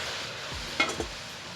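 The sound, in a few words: jujube plums added to a hot wok, sizzling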